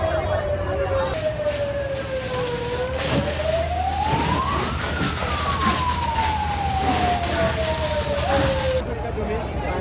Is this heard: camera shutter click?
no